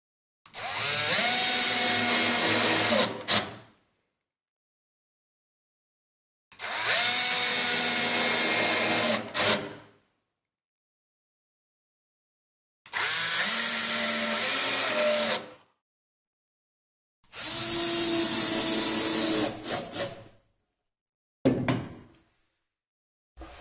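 A power drill drives screws into a row on a Sela snare cajon kit: four long whirring bursts of about three seconds each, separated by silent pauses, then two quick short bursts, loud and close.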